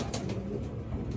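Pigeons coo in soft, low, repeated murmurs, heard close and steady for a moment with no one talking.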